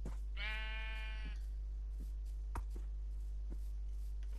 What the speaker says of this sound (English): We can shear the sheep